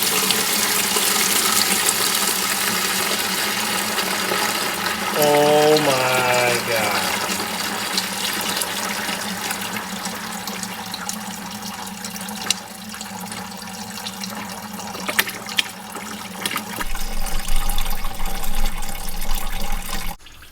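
Water pours and splashes out of the engine of a Farmall 460 tractor whose oil is milky with water, a loud steady liquid gush throughout with a brief voice exclaiming partway.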